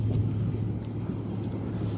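Steady idle rumble from the exhaust of a 2013 Dodge Challenger with a V6 engine, heard from behind the car as a constant low drone with no revving and no talk.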